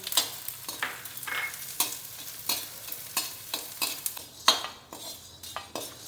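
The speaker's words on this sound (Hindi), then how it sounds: "अब घी हमारा गर्म हो चुका है, अब इसी में गोंद डाल देंगे हम।" Edible gum frying in hot ghee in a kadhai, with a soft sizzle and a steady series of metal spoon scrapes and clinks as it is stirred, close up and without talking.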